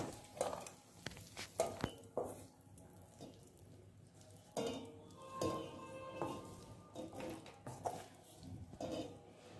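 Corn chaat is transferred into a bowl with a spoon, producing a series of sharp clinks and scrapes of metal on dishware, irregular and close, with quiet pauses between the clusters.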